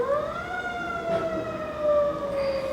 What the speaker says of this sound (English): I hear some sirens.